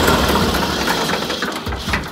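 A loud, powerful tractor engine runs close by, a dense, steady mechanical roar with a rough low throb and no speech.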